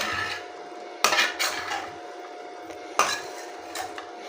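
Potato and okra with salt and crushed chilies stirred in a pan, two sharp metallic knocks of a spoon on the pan plus lighter scrapes over a faint sizzle.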